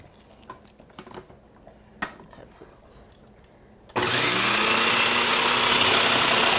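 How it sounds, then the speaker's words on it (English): Food processor chopping fresh spinach for slaw: quiet handling clicks and knocks for about four seconds, then the motor starts abruptly into a loud, steady whirring roar that runs to the end. "you have to be careful with a food processor because these blades are extra sharp"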